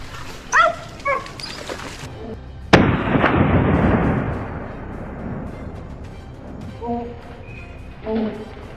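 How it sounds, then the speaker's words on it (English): A hunter's rifle fires at a wild boar in snowy woods, one sharp loud crack followed by a long rolling echo, with dog barks and yelps before and after. "a gunshot rang out"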